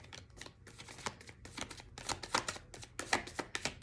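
Tarot cards are shuffled by hand in a quick series of crisp, close riffling and slapping bursts that grow louder toward the end, with no talking.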